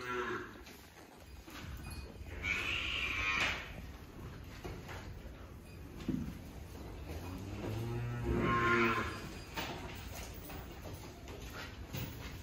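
A buffalo on a farm in rural India gives two long, drawn-out moos several seconds apart, moderately close, over a quiet outdoor background.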